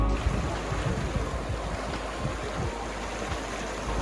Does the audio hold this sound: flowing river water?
yes